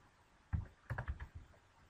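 Numbers being typed on a computer keyboard, a quiet handful of close, light key clicks in a quick irregular cluster, with no talk.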